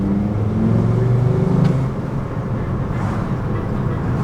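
A Volkswagen Rabbit under restoration pulls away, its engine giving a steady, loud, close rumble that rises briefly as it accelerates and then settles into an even drone.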